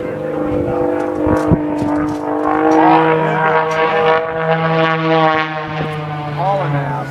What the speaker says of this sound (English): John Klatt is one of the third best aerobatics planes in the world